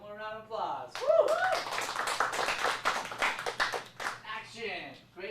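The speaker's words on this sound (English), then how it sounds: "All right, one more round of applause." Kids in an acting class give a round of applause, a burst of quick, uneven hand claps near the microphone that builds then fades, mixed with cheering and voices before and after.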